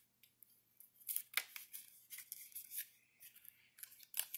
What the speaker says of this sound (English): I'm going to close that gap with some tape